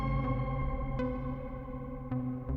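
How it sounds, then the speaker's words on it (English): A two-voice, six-operator FM synth preset on a Plaits Eurorack module holds a sustained, rich harmonic tone with effects, and soft new attacks retrigger it every second or so, without any speech. "This is 345, 2-voice, 6-operator FM synth with 32 presets."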